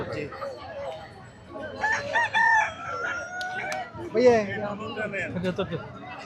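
Native chickens at a poultry market, with a rooster crowing twice and hens clucking nearby, all under buyers and sellers talking and haggling.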